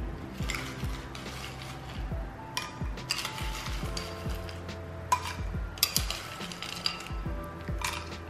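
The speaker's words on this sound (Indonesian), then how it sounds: "Kasih es batu." Ice cubes drop into a glass of cendol with coconut milk and palm sugar, giving a series of close, bright clinks and knocks that rattle unevenly, with no voices.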